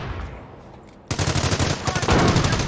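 Infantry gunfire in Company of Heroes, loud rapid bursts of rifle and machine-gun fire erupting suddenly after a quiet battlefield lull and continuing densely to the end.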